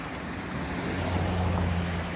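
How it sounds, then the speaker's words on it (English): A fast-running mineral river swollen after a night of rain, heard as a steady broadband rush of water with a low rumble, constant and fairly close, with no voices. "so the mineral river's running pretty fast."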